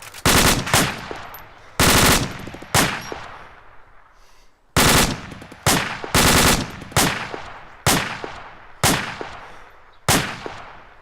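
Gunfire at a shooting range: loud, close shots crack out in irregular bursts and single reports, each followed by a brief ringing decay, with short pauses between volleys.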